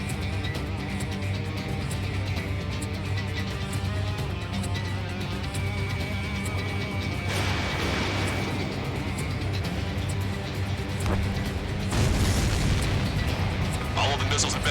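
Missiles exploding in the flight game Ace Combat 7, with deep booms and bursts over a constant jet roar, two sharper blasts standing out late, and radio voices speaking over the din.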